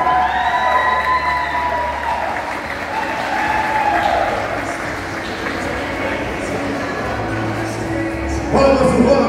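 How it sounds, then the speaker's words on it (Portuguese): Sustained crowd applause greets a men's adult cycling award winner at a cycling and mountain bike awards ceremony, steady throughout and swelling near the end, with a presenter's voice over it. "Palmas para o Robson, palmas para o Robson."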